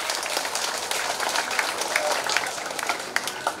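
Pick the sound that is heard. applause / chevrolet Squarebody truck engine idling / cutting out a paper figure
applause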